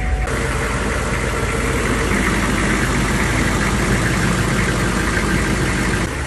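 A Hummer H1 station wagon's turbo diesel engine runs steadily after starting, a loud, close, continuous rough idle with a deep rumble and knocking texture, no voices.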